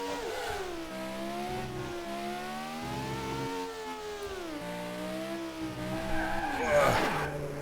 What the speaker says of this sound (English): And slamming into the barrier.